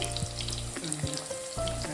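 Sliced onions sizzle steadily in hot oil with cumin seeds in a pan for a mushroom curry, a loud continuous frying hiss with a few brief stirring knocks and no voices.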